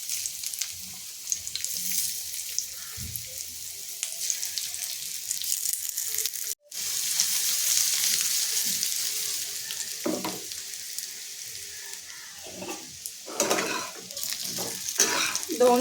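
Crispy taro leaf vadi (alu vadi) shallow-fry in a little oil in a pan and get flipped, giving a steady close sizzle. A brief dropout and some clinks and scrapes of turning break it up.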